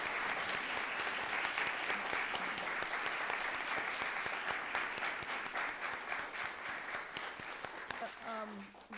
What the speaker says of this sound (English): we need to give just a huge round of applause